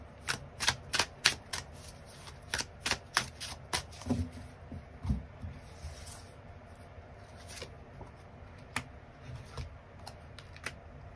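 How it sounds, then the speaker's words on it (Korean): Tarot cards are shuffled and drawn by hand: a quick run of crisp, snapping riffles and flicks at first, then sparser taps and slides as cards are laid out, close and clear with no talking. "추가 카드 뽑아보도록 하겠습니다"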